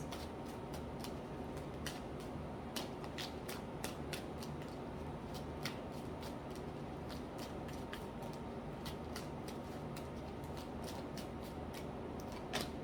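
Tarot cards are handled during a reading, making quiet, sharp clicks and snaps that recur irregularly over a low, steady background hiss.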